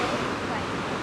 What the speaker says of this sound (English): Pretty good waterfall.